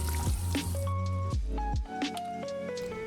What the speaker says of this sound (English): where you just dump the bucket of sudsy water on the car